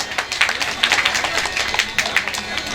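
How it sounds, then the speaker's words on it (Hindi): An audience claps during a Ramayan Manas recitation by a devotional troupe in a village. Bursts of clapping come in irregular patches, with voices mixed in. "महाराज ताली बजाइए।"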